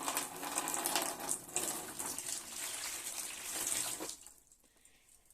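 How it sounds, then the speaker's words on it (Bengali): Hot water pours from a container into a basin for a foot soak, a steady splashing gush lasting about four seconds before fading to a faint trickle. "জলটাও আমার গরম হয়ে গেছে এখন আমি এই গামলার মধ্যে ঢেলে দেব একদম"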